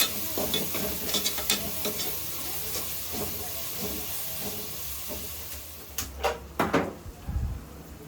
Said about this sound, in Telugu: ఇప్పుడైతే ఒక స్పూను గరం మసాలా అయితే వేసుకుంటున్నాను నేను. ఇది కొంచెం వేగాలండి.